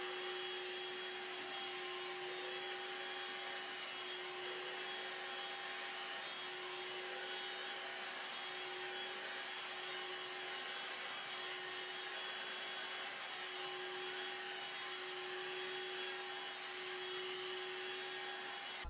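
Hoover Air cordless 20V lithium-ion bagless hand vacuum running its brush roll over a thick wool rug, a steady close whine with a constant hum that continues unbroken throughout, with no talking.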